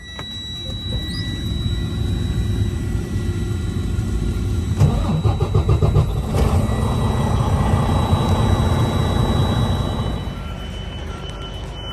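A truck's diesel engine is started before a pre-trip inspection, then settles into a loud, steady, rumbling idle close by before it shuts off near the end.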